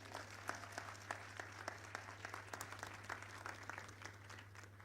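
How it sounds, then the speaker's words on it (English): An audience at a technical institute graduation ceremony applauds with steady, fairly distant clapping over a constant low electrical hum. "Our chief guest deserves a better round of applause"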